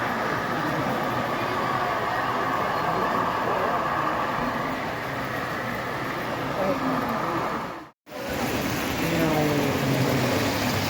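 A model train runs on a club layout with tight curves, giving a steady rolling rumble and faint wheel squeals on the curves, broken by a brief dropout, with people talking nearby.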